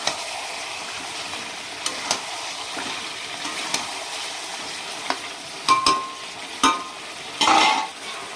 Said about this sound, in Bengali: আমি আলুটাও দিয়ে দিচ্ছি, দিয়ে সুন্দরভাবে নেড়ে চেড়ে দেবো।